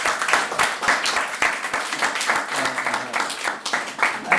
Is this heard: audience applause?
yes